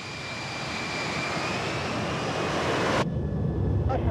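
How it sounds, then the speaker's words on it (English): An F-35B jet launches from the aircraft carrier HMS Queen Elizabeth at sea, a loud sustained jet engine roar that builds steadily and then cuts off sharply near the end, leaving quieter ship and wind noise. "Launch the jet."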